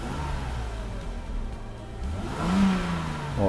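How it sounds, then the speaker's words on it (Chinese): A Mercedes-Benz W126 300SEL engine, just after fuel distributor repair, idles at about 700 rpm, then revs up with a rising whir and settles back, heard close with no talking. "大哥加一下油门"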